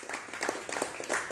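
Audience at an Indonesian religious lecture clapping, a fairly faint, uneven patter of hands with pulses of louder bursts, heard from some distance in a reverberant hall.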